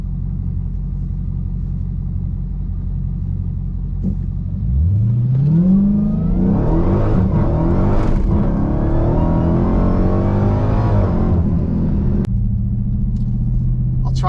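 A Dodge Challenger Hellcat Redeye Super Stock in custom track mode launches from a steady rumbling idle into a loud, rising roar, its tone climbing hard through the gears before dropping back to a deep idle burble.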